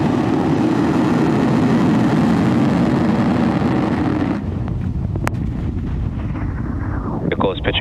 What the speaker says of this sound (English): Ignition. Liftoff of Falcon 9.